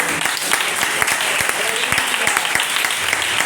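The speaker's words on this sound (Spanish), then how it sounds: "puedes dar un aplauso al Señor" Loud applause from a church congregation, a thick continuous clatter of many hands with some distinct individual claps popping out, carrying on steadily without pause.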